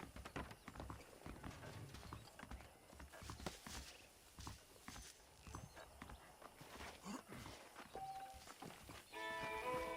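Horse hooves clip-clop in a steady walking rhythm in the video game Red Dead Redemption, close and fairly loud over outdoor ambience, with a brief musical tone near the end.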